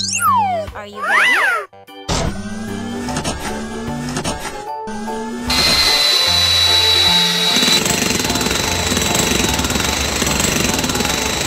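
A toy drill truck drills in a noisy, loud burst of rattling machine hammering that starts after a few squeaky electronic tones and brief pauses, then grows denser and louder toward the end.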